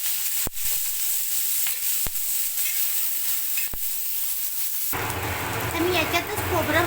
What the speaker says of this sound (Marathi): खोबरं आणि कांदा एकत्रच भाजते आणि थोडं अद्रक आणि लसूण बी भाजून घेते.